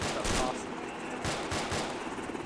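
Bursts of gunfire in the military video game ArmA II, a loud opening volley followed by a couple of shorter clustered shots, close and dense with no talking.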